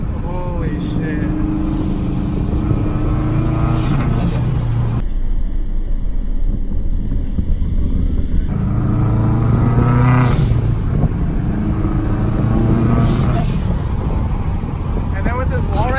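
A loud boosted Scion FR-S engine revs and roars close by, rising and falling in pitch, with people talking over it.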